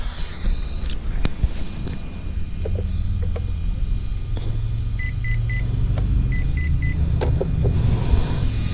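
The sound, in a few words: electronic speed controller beeps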